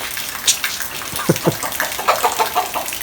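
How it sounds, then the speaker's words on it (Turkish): Chickens cluck in short, scattered bursts against a steady wash of rain-like noise, fairly close. "Ve tavukları da görüyorsunuz."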